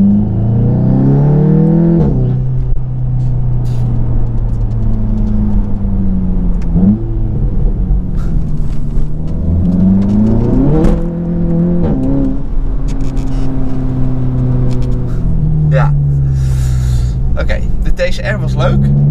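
A 470 hp Volkswagen Golf GTI Clubsport engine revs and accelerates repeatedly, its pitch climbing and falling in loud sweeps, with people talking over it.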